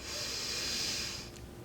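A long, airy breathy exhale on an "ah" sound during a somatic back-to-front breathing exercise, with a soft hiss, steady for over a second before trailing off quietly.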